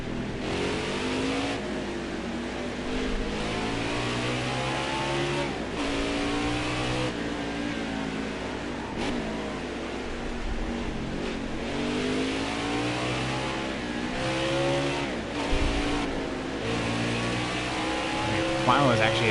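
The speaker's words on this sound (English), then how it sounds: "hate how you also rev out the engine right there" A racing car's engine revs hard in a PS4 racing game on an Indy road course, rising and falling through gear shifts continuously, loud and close throughout.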